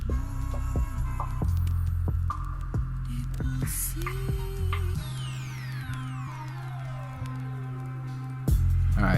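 T-outliner hair trimmer lining up a skin-taper haircut for waves, a steady close electric buzz with a strong low hum that runs throughout, briefly shifting in pitch and cut with small clicks and scrapes.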